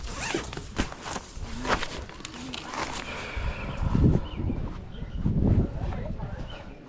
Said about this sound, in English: What is wrong with that damn zipper?